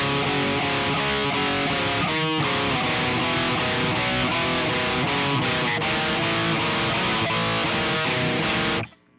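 A heavily distorted electric guitar grinds through a heavy, dissonant riff in dense, continuous chugging chords. It is loud and saturated, with a brief gap near the middle, and it cuts off abruptly at the end.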